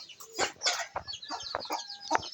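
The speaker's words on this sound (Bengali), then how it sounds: "সর্বশেষ সেটি একটি মুরগি" Chickens cluck on a small family farm that also keeps cows and goats, several short close calls in quick irregular bursts with no talk over them.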